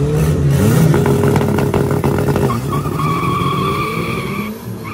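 VW Gol and VW Saveiro launching in a street drag race, with loud, raspy engines revving hard and climbing in pitch, overlapping tire noise and a crowd-filled outdoor atmosphere.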